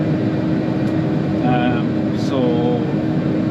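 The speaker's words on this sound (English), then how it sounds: "this is a new tractor, and then also the baler on the back is the new Fusion" A new tractor pulling a new Fusion 4 round baler during harvest baling gives a loud, steady mechanical drone throughout, with a couple of brief whining tones rising over it.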